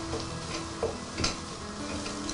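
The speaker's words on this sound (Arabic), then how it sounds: "نقلب شوي" A utensil stirs sizzling food in a pot, with a scrape or two standing out against a steady frying hiss, close and moderately loud.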